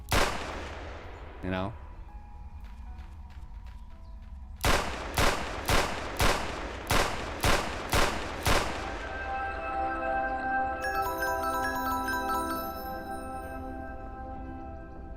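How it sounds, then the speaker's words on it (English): Revolver shots ring out in a Unity3D penguin video game, a sharp early blast followed by a rapid run of about eight evenly spaced loud shots, then a lingering tonal ringing, with brief speech near the start. "then you have this revolver you can shoot"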